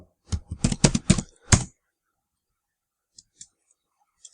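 A quick burst of about a dozen close, crisp key presses on a computer keyboard, then silence broken by two or three isolated taps.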